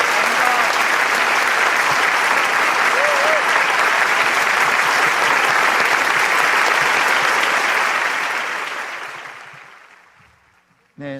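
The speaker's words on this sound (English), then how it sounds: "with a warm round of applause" Warm, sustained applause from a large festival audience at a youth blessing ceremony, steady and dense for about eight seconds before tapering off and fading out.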